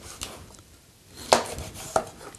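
A knife slices through an avocado in two or three crisp, close cuts, with soft handling noise between them and no talk.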